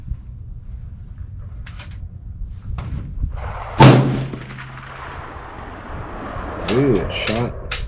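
An Aero Precision Solus rifle in .308 Win fires a single loud, sharp shot near the midpoint, its boom trailing off into echo, with talk before and after.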